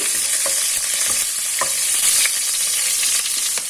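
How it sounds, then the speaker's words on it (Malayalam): Curry leaves dropped with whole spices (cinnamon, mace, cloves, star anise, cardamom) into hot oil for Kerala chicken molee crackle and sizzle steadily up close, a continuous loud hiss with scattered sharp pops and the scrape of stirring. "ഇതിൻ്റെ കൂടെ ഇട്ട് എണ്ണയിലിട്ട് കൊടുക്കാം. ഇനി ഇതിലേക്ക് ലീഫ് ഇട്ടു."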